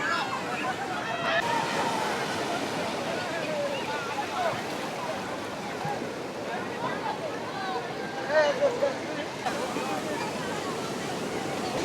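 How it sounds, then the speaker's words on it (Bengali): Heavy sea waves roll in at Puri beach under rainy weather, a dense, constant roar of surf with a few brief surges and faint voices from a crowd of bathers mixed in. "দেখতেই পাচ্ছ কীরকম ঢেউ"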